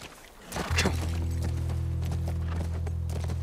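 A horse's hooves clip-clopping in The Last of Us Part 1, a steady run of close, soft hoof strikes over a constant low hum.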